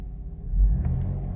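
An Infiniti V6 biturbo engine idling smoothly and quietly, a low steady rumble close by with a slight swell in the middle.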